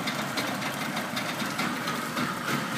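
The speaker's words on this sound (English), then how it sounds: "And this is a cold startup." A 16-foot 2000 Tracker Pro Deep V-16 outboard motor idles steadily after a cold start, a continuous close rumble with a slightly knocking, uneven texture and no voices.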